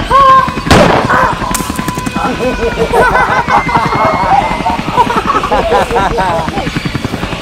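Loud bursts of staged gunfire in a short-film police confrontation crack over excited shouting voices, with rapid repeated shots continuing under the commotion.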